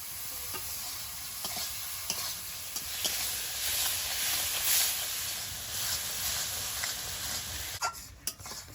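Spice masala of salt, cumin, turmeric and chilli powder sizzles and is stirred in a pan for a boal fish curry, giving a steady soft frying hiss with light scraping strokes.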